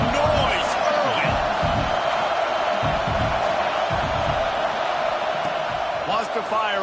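A college football stadium crowd roars in a constant loud wash, with thumping bursts and occasional whoops rising above it.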